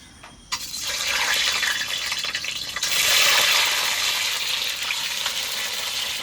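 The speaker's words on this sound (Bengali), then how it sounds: "আমার এইদিকে কড়াইতে তেলটা গরম হয়ে গেছে, আমি এখন ডিমগুলো ভেজে নেব" Eggs dropped into hot oil in a wok for a Bengali egg curry, a loud steady sizzle that jumps in suddenly and swells further midway, hissing on alone without speech.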